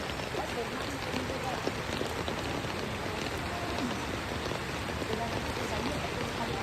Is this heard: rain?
yes